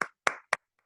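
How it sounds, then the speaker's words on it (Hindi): A few hand claps at a business plan meeting, three sharp separate claps about a quarter second apart, close and fairly loud, then a faint trailing tap, with no voices. "एक बार मैं चाहूंगा उनके लिए जोरदार ताली होनी चाहिए।"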